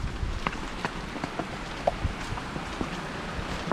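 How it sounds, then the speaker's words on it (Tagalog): Steady rain falls outdoors on a rural route traveled on horseback, a close, constant patter of drops hitting surfaces with scattered louder splashes and no talking. "ulan na naman po."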